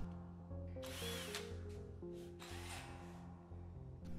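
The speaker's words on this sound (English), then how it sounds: "Run a drill bit through the rivet holes to clear the paint or powder coat." A power drill runs a bit through paint- or powder-coated rivet holes in sheet metal panels for a Goblin build, whirring steadily with short bursts and pitch changes, close and loud throughout with no talk.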